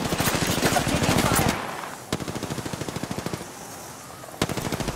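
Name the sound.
gunfire in Apex Legends video game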